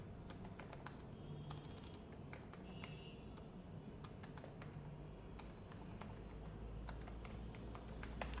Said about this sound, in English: I'll just type here something tutorials point